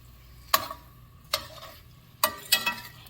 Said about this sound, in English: give it a nice stir so that everything can get evenly coated